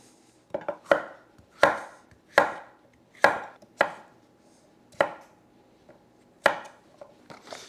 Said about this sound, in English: Now, I just want to roughly cube the squash.